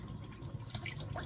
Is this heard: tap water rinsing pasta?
yes